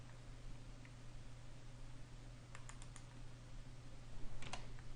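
Keys tapped on a computer keyboard while entering an IP address for a VPN connection setup, with a few soft clicks in two short bursts over a steady low hum and background hiss.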